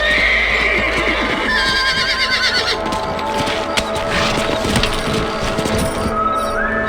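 Horse hooves clip-clop continuously while a horse neighs and whinnies, with no talking, all fairly loud and close, in the video game Red Dead Redemption.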